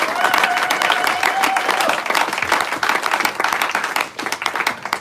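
A church congregation bursts into sustained applause and clapping, a dense wash of many hands with crowd voices mixed in, loud and steady throughout with no break.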